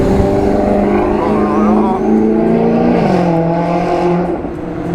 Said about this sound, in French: Maserati. Oh le bruit qu'elle fait, mais c'est infernal.